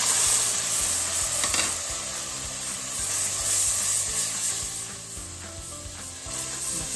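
Tomato paste and cumin-garlic paste sizzling in frying masala for Lahori-style chickpea curry: a continuous close sizzle with repeated scraping strokes of a spoon stirring the pan, steady and moderately loud.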